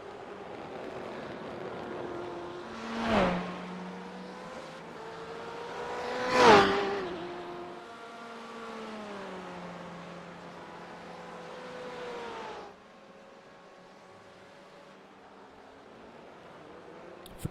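Race cars lapping Sebring International in a sim racing league event: two loud engine passes rush close by with sharp peaks, then a steady high engine drone holds before dropping away to a quieter hum.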